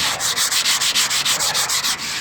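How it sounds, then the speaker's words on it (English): A ratty car fender being crosshatch sanded by hand, with close, steady back-and-forth rubbing strokes repeating in an even rhythm of about a dozen passes, loud and without talk. "what we are doing is sanding this ratty looking fender"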